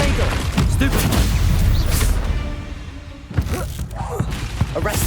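Confringo blasting-spell explosions in Hogwarts Legacy, loud booming bursts with crackling debris, a dense blast at the start and another sharp hit midway, with a voice calling out amid the combat.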